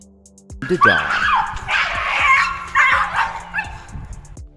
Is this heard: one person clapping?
no